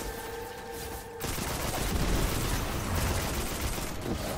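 Sustained gunfire in Destiny 2, a dense fusillade of rapid shots erupting after a brief tonal lull and continuing steadily at moderate distance with no one speaking.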